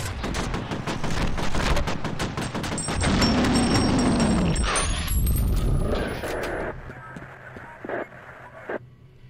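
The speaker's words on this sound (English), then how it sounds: "He's got one of those nail guns." The HV Penetrator nail gun fires in the shooter F.E.A.R., a rapid string of sharp, metallic shots that later breaks into a few scattered bursts, set against game noise and a high electronic whine.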